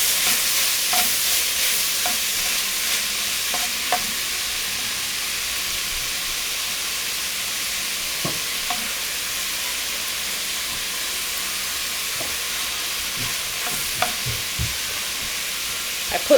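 Chopped onions and garlic sauté in a soup pot for Zuppa Toscana, giving a steady close sizzle and hiss with occasional soft clicks and scrapes of stirring, no voices.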